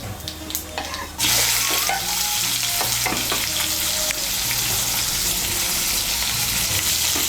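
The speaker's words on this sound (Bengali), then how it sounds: "পেঁয়াজ কুচিটাকে লাল করে ভেজে নেব।" Large chopped onion hits hot oil in a pan with a sudden loud sizzle, then keeps frying in a dense, steady hiss while a utensil stirs and scrapes it, during preparation of a Bengali potol chingri dish.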